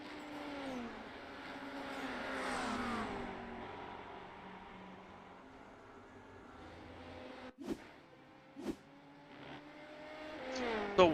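A Le Mans prototype LMP2 race car in a sim-racing endurance event sweeps past on track, its engine note rising and falling at moderate distance, with a few sharp bursts near the end.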